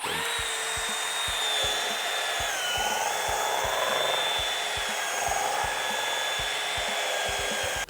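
A drill-driven mixer stirs Lonseal epoxy for a van floor install, giving a steady, close motor whine with faint rhythmic ticking that runs unbroken for several seconds.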